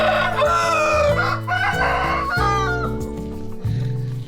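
Roosters crowing and hens clucking at a Muay Thai gym where trainers keep fighting chickens, loud and layered over a steady music bed.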